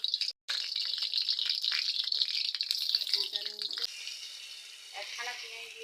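Red amaranth greens go into hot oil in a wok with a loud, bright hiss that crackles strongly and then settles into a softer sizzle, with a few utensil clinks near the end.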